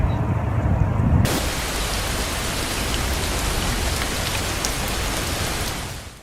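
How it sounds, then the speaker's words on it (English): Steady, dense rain pours down throughout a storm in Brisbane, a continuous hiss of drops on surfaces; a deeper rumble at the start gives way to the even downpour. "This, the Brisbane storm."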